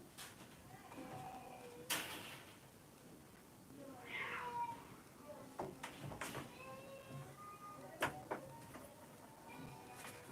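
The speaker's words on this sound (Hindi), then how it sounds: "बाहर चल रही बिल्ली की फाइटिंग" Cats fighting outside, yowling and meowing somewhere off at a distance, with scattered thumps and clatters in a quiet setting.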